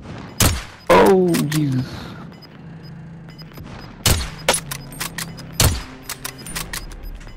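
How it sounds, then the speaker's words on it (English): Bursts of gunfire in Call of Duty: Warzone, several sharp cracks spaced across a few seconds, one near the start and others later, with a voice speaking briefly between the first shots. "That was you shooting, wasn't it?"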